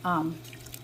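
Water drips and trickles off freshly blanched broccoli sitting in a strainer, faint and close, after a brief burst of voice at the start.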